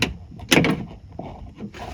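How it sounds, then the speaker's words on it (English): Door handle on a Ford Fiesta Mk3 is pulled to unlock the door, producing a few short mechanical clicks and clunks, close and moderately loud, with a brief louder latch sound near the middle. "So as I pull that up, that's what unlocks the door."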